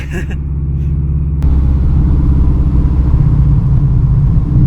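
A Subaru GC8 STI with a very loud exhaust rumbles deeply from inside the cabin while driving, its low engine drone steady and strong throughout.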